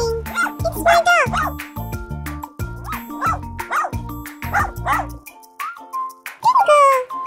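A cartoon dog lets out a rapid run of loud, close barks and yips in bursts, then after a short pause gives a higher, whimpering cry.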